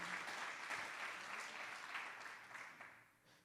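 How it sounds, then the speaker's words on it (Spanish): A church congregation applauding during a sermon, a steady dense wash of clapping from many hands that holds for several seconds and then begins to fade. "Give a loud round of applause to our Lord."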